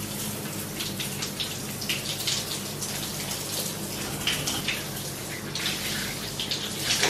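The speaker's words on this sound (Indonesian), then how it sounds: "Kita coba lihat airnya apakah panas dingin." Hotel bathroom tap running, a steady close hiss of flowing water splashing continuously with no break throughout.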